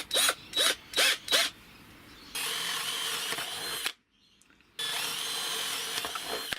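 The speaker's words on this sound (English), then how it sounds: "I'm just going to drill some holes through the board itself" Power drill boring holes through a mounting board for a DC-DC charger install: four short, loud whirring bursts, then a long steady drilling run, a brief stop, and another sustained run, all close up.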